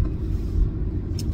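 A car pulls away on a cold, windy day, its engine giving a steady, low rumble that stays close and fairly loud throughout, with no voices.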